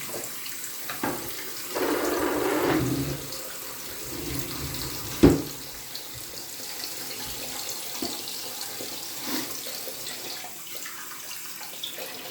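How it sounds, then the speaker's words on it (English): Hot water runs from a bathroom tap for blooming shaving soap, a soft steady splashing stream with a louder burst early on and a brief clatter midway, close and fairly quiet. "Get some hot water going."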